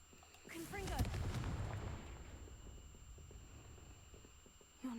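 A Confringo blasting curse explodes in Hogwarts Legacy, a loud burst with a rumbling low roar that swells and slowly fades over several seconds, followed by a quieter ambient tail and a sharp sound at the end.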